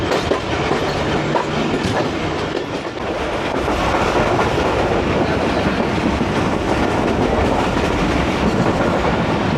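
The Awam Express passenger train runs at speed with a loud, continuous rumble and a steady clickety-clack of wheels over rails, heard from on board with no voices.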